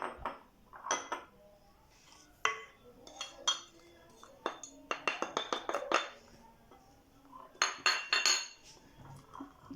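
A spoon stirs spices in a bowl: turmeric, ginger, ras el hanout, a cinnamon stick and salt. It makes a series of close, sharp clinks and scrapes against the bowl in irregular bursts, with quiet pauses between them.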